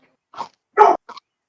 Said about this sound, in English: Oops, that's my dog.